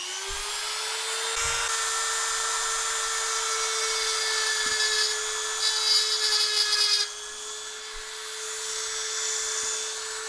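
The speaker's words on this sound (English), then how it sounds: "I took my Dremel." A Dremel rotary tool whines steadily at high pitch while cutting, close and continuous for several seconds, with a few brief knocks and shifts in tone as pressure changes.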